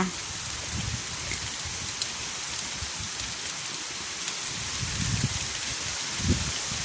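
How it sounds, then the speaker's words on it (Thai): A hose sprays water over a vegetable garden on a windy day, a continuous hissing patter like rain on leaves, fairly close, with faint thumps and gusts underneath. "ให้น้ำสวนค่ะ ให้น้ำผัก"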